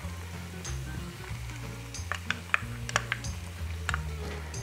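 Marinated dogfish frying in dendê palm oil for a fish and shrimp moqueca, a faint, soft sizzle with scattered sharp clicks and taps of utensils, close by.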